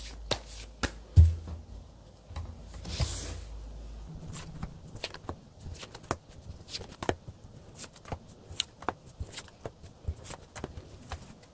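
Tarot cards are shuffled by hand in a quiet room, a close run of crisp, irregular riffles and taps with no talking.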